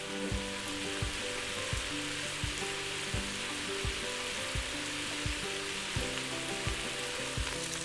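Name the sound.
sausage browning in a pressure cooker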